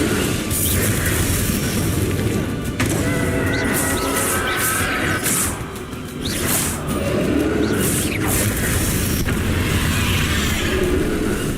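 Repeated spell blasts from Confringo and other combat magic crash through a Hogwarts Legacy final boss fight, with booming bursts and pops stacking over continuous loud battle noise and no gaps between them.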